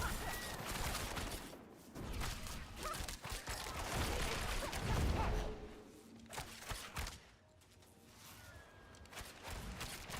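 Dense rapid-fire shooting and explosions from a Rogue's barrage attack and thrown bombs in Diablo 4, a continuous loud clatter of hits that briefly eases and then returns, with some talk.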